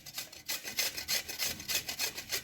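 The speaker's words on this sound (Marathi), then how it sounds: "तर जाड किसणीनेच आपल्याला बीट किसून घ्यायचं आहे." Beetroot rubbed against a coarse grater, producing steady rhythmic rasping strokes about every quarter second, close and clear with no talking.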